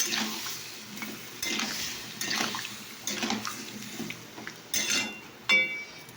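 Soybean curry with water being stirred and sautéed in a pan, with repeated spoon scrapes and clinks against metal over a soft wet bubbling, fairly close, with no talking.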